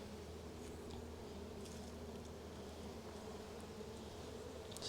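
Steady, quiet hum of honeybees buzzing continuously around a hive being broken down for winter, with a low constant drone and no speech.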